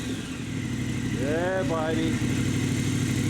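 A brand new KTM 1090 motorcycle engine idles and then revs hard twice in quick rising and falling bursts, close and loud, as a voice speaks over it.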